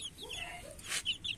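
Native desi hens in a small backyard farm clucking close by, a few short, sharp clucks and squawks over about a second and a half with no talking.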